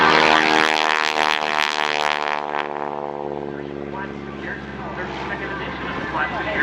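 An SNJ-6 aerobatic airplane dives inverted on a 45-degree down line at the Quad Cities Airshow, its radial engine droning loud and close with a strong harmonic whine that falls in pitch as it passes, while an announcer talks over the PA.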